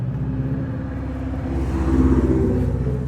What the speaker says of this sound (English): It's a Subaru passing by.